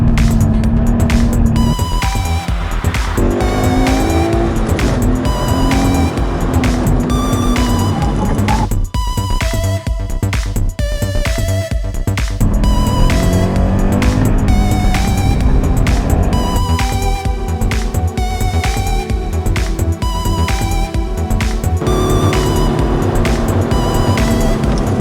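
A car lapping a track in a timed session for a coilover and tyre comparison, with a loud, steady engine note that rises and falls with gear changes and tyre squeal through corners, and no talk.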